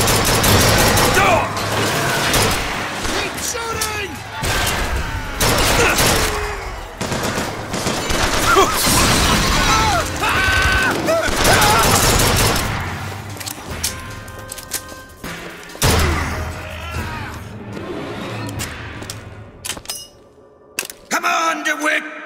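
Gunfire in Bioshock Infinite on PC, loud sustained bursts of automatic fire and cracking shots through a hectic fight, with shouted voices mixed in, fading into scattered shots and quieter mechanical sounds near the end.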